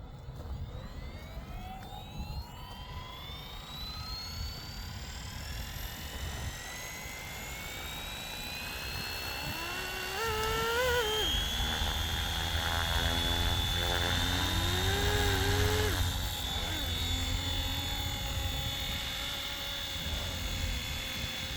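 A Flywing FW450 RC helicopter flies outdoors with a whining rotor and motor tone that rises and falls in pitch as it manoeuvres, growing louder midway, with wind noise underneath and no talking.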